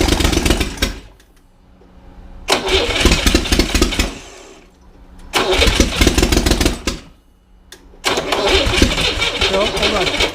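A refurbished Chevrolet Corvair engine cranks and catches in repeated bursts, loud close runs of rough engine noise broken by short pauses, with voices talking in between.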